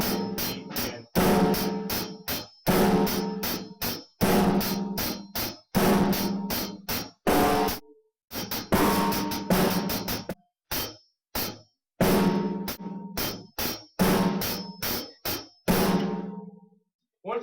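A rock drum set plays a steady beat, hi-hat on eighth notes with the snare cracking on beats 2 and 4, loud and close in repeated short bars separated by brief pauses.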